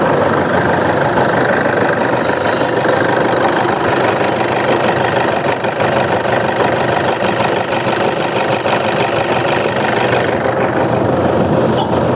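A used car's engine idles steadily and loudly for the whole stretch, a close, even mechanical rumble with a faint knocking pulse and no talk over it.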